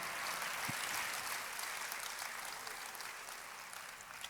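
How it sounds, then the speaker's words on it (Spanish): A church congregation claps for the Lord during a Spanish-language sermon. The applause is a dense, continuous patter, fairly distant and soft, that gradually tapers off. "Dele fuerte el aplauso al Señor."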